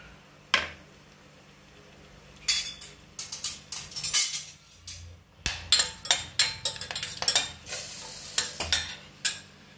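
Whole cardamom, cloves and cinnamon frying in oil in a pressure cooker: a soft sizzle under a rapid series of sharp metallic clinks and scrapes from a spoon stirring against the pot.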